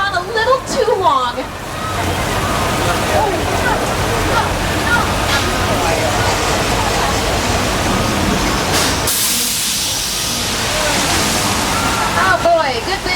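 Flood water released on a studio backlot set rushes and crashes continuously, loud and close, with a broad roaring wash and splashing bursts; voices are faintly present under the torrent.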